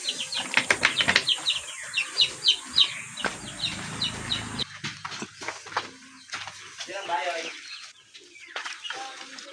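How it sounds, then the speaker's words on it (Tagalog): Chicks nearly two months old, gamefowl being raised, give repeated high chirps and peeps with some wing flapping nearby, while someone talks over them. "Yan yung malapit na natin mag 2 months old na mga sisiw."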